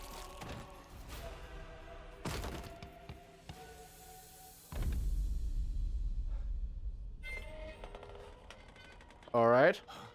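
Shotgun blasts in The Evil Within 2, several sharp, loud booms spread across the scene with thuds between them and a short squealing creature cry near the end, with a voice talking over parts.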